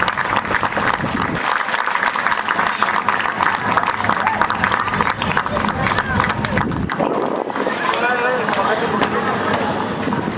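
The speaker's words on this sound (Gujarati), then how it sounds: "બધા તાળીઓના ગડગડાટથી વધાવજો" Applause greets honourees, tribal midwives, at a World Indigenous Day ceremony in Vyara, Tapi: sustained, dense clapping from a crowd, loud and close, with voices mixed in and a livelier stretch near the end.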